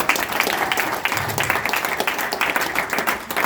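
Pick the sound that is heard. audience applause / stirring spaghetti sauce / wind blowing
audience applause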